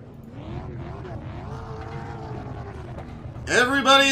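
Late model race cars roll slowly around the Bullring track, a steady low engine drone with a rising harmonic, ending in a sudden louder burst of throttle.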